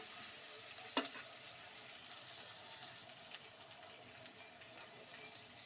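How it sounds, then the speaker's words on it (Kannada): Two large onions frying in a pan for masala dosa filling, a soft continuous sizzle with one sharp clink of a utensil early on and light stirring. "ನೋಡಿ ಈರುಳ್ಳಿ ಚೆನ್ನಾಗಿ ಫ್ರೈ ಆಗಲಿ"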